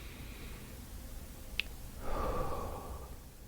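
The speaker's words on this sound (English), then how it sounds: "make a sound on the exhale, breathing out through the mouth" A single audible exhale out through the mouth during a guided meditation, a soft breathy rush of air that swells and fades over about a second, preceded by a tiny click in a quiet room.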